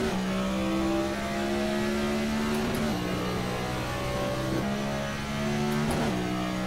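NASCAR race car engine from the iRacing game at the Roval road course, a loud continuous revving drone that steps down and climbs back with gear changes, steady throughout with no talk.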